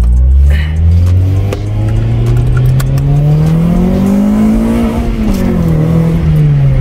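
Honda B18B engine revving through a newly fitted exhaust, a loud steady drone that climbs in pitch, peaks and eases back down, close by and continuous with no talk over it.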